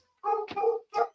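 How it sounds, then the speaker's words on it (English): A dog indoors lets out a short whining bark followed by a second yip, close and clear, two quick vocal bursts with no talking. "don't even know what they're barking about."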